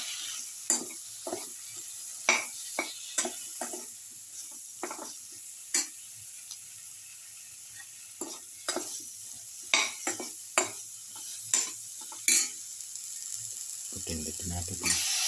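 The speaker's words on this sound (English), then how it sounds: "thoroughly saute and mix in the casserole." Eggplant pieces sautéing in a casserole pot while being stirred, with soft sizzling under repeated scraping and clattering strokes of a spoon, fairly close and steady throughout.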